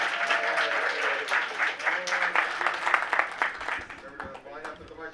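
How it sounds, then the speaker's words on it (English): An audience applauds after a talk on paranormal investigation, a busy burst of clapping that tapers off toward the end while voices chatter underneath. "I will pause for applause"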